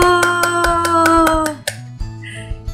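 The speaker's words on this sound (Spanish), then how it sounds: "¿Podemos aplaudir por el cuento que quería ser leído?" A few hands clapping after a children's story is read aloud, a run of quick, close claps under a sustained musical tone, then a handful of scattered softer claps as it fades.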